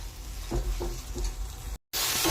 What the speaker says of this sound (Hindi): इसे मैं मसाले में अच्छे से भूनने दूंगी इसको।